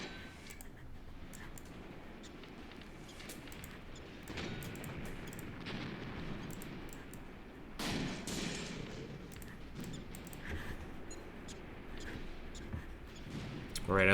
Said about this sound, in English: Mortar fire is doing a great job at thinning these lines.